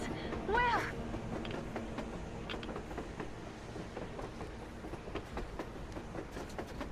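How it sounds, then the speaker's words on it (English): A train rolls by in the post-apocalyptic shooter game Metro Exodus, a steady rumbling clatter with rhythmic clicks sustained at moderate level throughout, while a voice speaks briefly near the start. "A damn train on the surface!"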